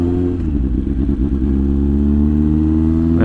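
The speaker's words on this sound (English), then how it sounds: "I still want you to hear that exhaust because it sounds bloody amazing" A Spicy110 motorcycle idles with a steady low exhaust note, a loud, close and continuous engine drone with a brief rougher patch early on and a rising rev at the very end.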